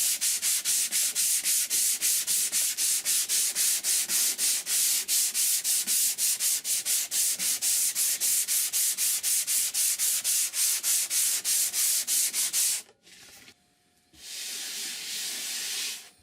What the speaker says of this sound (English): Smooth out irregularities with a sanding grater.